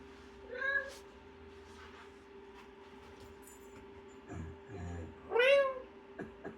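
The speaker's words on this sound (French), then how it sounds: "Je viens de trouver mon chat sur le cran." A cat meows in the Minecraft video game, two short mewing calls a few seconds apart over a steady low game hum, fairly faint and clear of talk.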